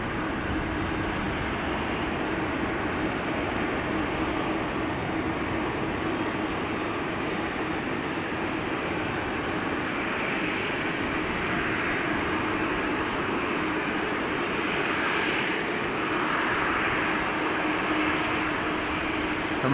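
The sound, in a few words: airliner at Amsterdam Schiphol Airport in takeoff configuration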